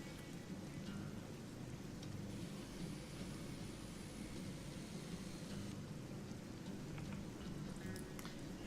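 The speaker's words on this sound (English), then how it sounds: "Oh, a bit of a storm." Steady rain hisses continuously with a low rumble of thunder beneath it, a dense wash of storm noise with no voices, in the video game Depraved.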